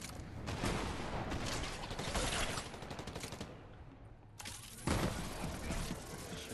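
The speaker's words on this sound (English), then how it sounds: "I've hit four, like, awesome boogie, Excalibur shots" Excalibur rifle gunshots in the video game Fortnite, a continuous barrage of loud blasts and explosive bursts with a brief lull and then a sharp renewed hit near the end.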